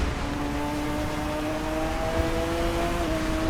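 A race car engine on a circuit is held at full throttle, its steady, droning tone climbing slowly in pitch as it pulls up through the gears. It stays loud and close throughout, with no talking.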